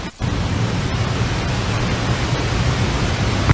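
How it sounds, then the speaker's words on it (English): Steady broadband rushing noise with a low hum underneath, like strong wind blowing outside, continuous and fairly loud throughout. "And like the wind's blowing outside."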